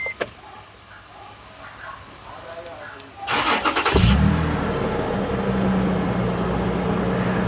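A Toyota FJ Cruiser's 4000 cc non-turbo petrol engine cranks briefly, then catches and settles into a deep, steady idle, close and loud, after a quieter stretch of background noise.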